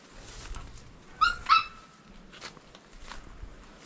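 A puppy gives two brief, high-pitched yips in quick succession, fairly faint against low background noise in an outdoor farm area.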